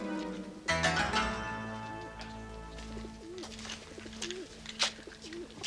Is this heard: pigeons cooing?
yes